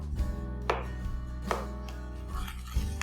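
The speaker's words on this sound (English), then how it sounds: "let's cut it into square pieces" A knife chops through cooled patod, a Rajasthani snack, cutting it into square pieces on a board; four or five sharp, distinct cuts land at uneven intervals over steady low background music, with no talking.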